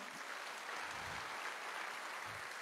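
An audience claps together in a steady, moderately loud round of applause, with a few low murmurs underneath.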